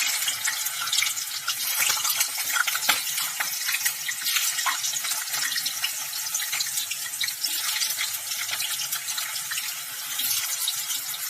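Pieces of lotus stem (nadru) frying in hot oil, a steady, close, hissing sizzle that keeps going without a break and with no talk.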